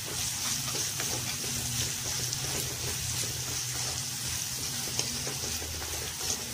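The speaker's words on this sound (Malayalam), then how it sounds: "ഇതൊന്ന് നന്നായിട്ട് വഴറ്റിയെടുക്കാം. അപ്പൊ സവാള വഴറ്റിയെടുത്തിട്ടുണ്ട്." Sliced onions with salt sautéing in a pan for an egg cutlet, producing a loud, even frying sizzle with frequent spatula stirring scrapes, close and uninterrupted.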